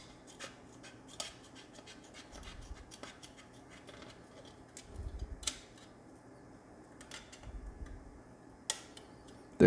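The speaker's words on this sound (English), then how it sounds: "The closer to the front of these scissors, the tighter you can cut a curve." Scissors trim a curve in a vintage Kyosho Optima or Javelin RC car body, with faint, close, crisp snips and ticks at irregular intervals over a quiet room.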